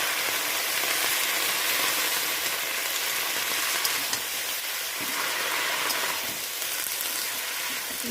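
Spinach stems tossed into a hot pan fry with a continuous soft sizzle and crackle, fairly even in level, with slight stirring scrapes under it and no talk.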